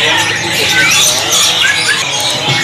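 A caged Foxai Hongkong bird squawking loudly and close, a continuous burst of harsh, chattering calls for a few seconds.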